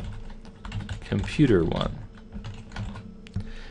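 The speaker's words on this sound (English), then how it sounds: "I'm having a hard time typing today" Computer keyboard keys tap steadily and close by while code is typed, and someone talks briefly over the clicking partway through.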